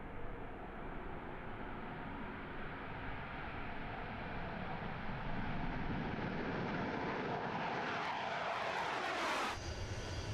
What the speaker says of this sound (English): These Su-25 fighter jets, NATO codenamed Frogfoot